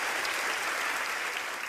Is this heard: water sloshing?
no